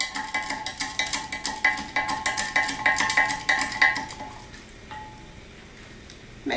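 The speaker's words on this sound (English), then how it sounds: "I'm going to stir it up. Get that sugar all dissolved in there." A spoon stirs sugar into kombucha tea in a container, a steady run of rhythmic scraping clinks for about four seconds, then it stops and only faint room noise remains.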